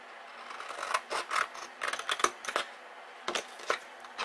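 Paper being cut with scissors along a scored line, giving a series of crisp snipping and rasping strokes in short bursts with brief pauses, close and fairly quiet.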